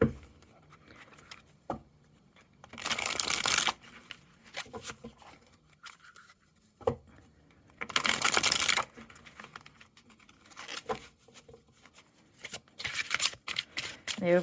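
Bursts of crisp riffling as a deck of tarot cards is shuffled, several quick shuffles separated by quieter handling and soft taps.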